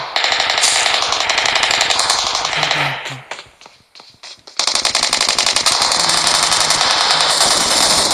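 Rapid cartoon gunfire in a Hindi Doraemon episode, a loud, fast machine-gun rattle that breaks off for about a second and a half of near quiet before resuming at full strength.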